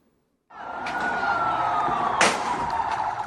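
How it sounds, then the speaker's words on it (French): An ambulance siren wails in a bombed war zone after a sudden start, loud and steady with a slowly falling tone, with traffic noise and a sharp crackling burst underneath. "Dans la panique, les ambulances se frayent un chemin."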